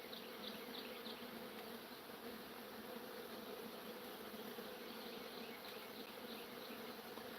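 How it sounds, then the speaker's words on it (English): Bees buzzing around a hive, a dense, steady hum from many insects that holds without a break throughout, faint and even. "Bees are really interesting."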